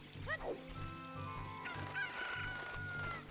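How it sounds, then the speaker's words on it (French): A chicken in Zelda: Ocarina of Time clucks in a short series of squawky calls over low game music, with no speech. "Pourquoi il y a une poule ici?"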